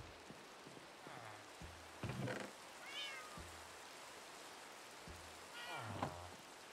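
In Minecraft, a cat meows two or three times at a moderate distance over steady rain patter, with scattered soft thuds and clicks between the calls.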